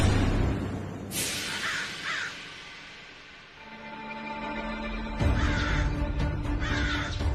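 A crow caws loudly and close. Two raspy calls come early, then after a short lull a repeated series of harsh caws follows over a rumbling background.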